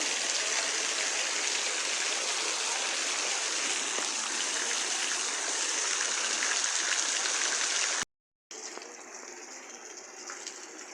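Heavy afternoon rain pouring down in a steady dense hiss, loud and unbroken for most of the stretch, then a brief cut and a softer continuing downpour.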